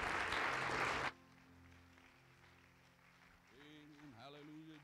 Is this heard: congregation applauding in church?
yes